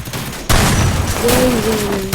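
An MP40 submachine gun fires in a shooter video game, a burst of gunfire with a sharp onset, close and loud, with a tonal in-game effect sounding behind it.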